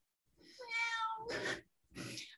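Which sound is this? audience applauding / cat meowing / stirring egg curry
cat meowing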